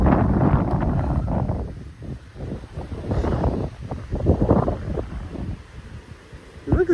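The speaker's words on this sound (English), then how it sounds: "It's all windy." Wind buffets a handheld microphone outdoors under fast-moving clouds, a steady low roar with gusty surges, continuous for several seconds and fairly loud, easing briefly in the middle before rising again.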